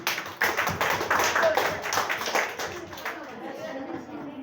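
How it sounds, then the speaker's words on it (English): Clapping from an audience at a Zaria children's school entrepreneurship event, a dense burst of claps near the start that fades into lighter scattered claps with chatter underneath. "I want you to clap for them again"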